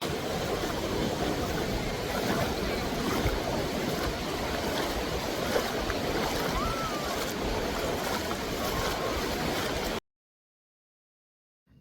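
Sea waves wash steadily onto Diveagar beach in the Konkan at sunset, a continuous broadband roar of surf with wind, loud and close, then cutting to silence near the end.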